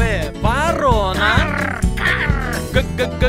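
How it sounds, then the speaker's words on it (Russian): A crow caws several times as a sound effect inside a cheerful children's alphabet song, the calls blended into bouncy music and sung vocals. "ворона!"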